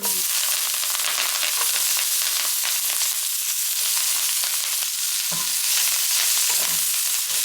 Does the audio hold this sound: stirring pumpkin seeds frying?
yes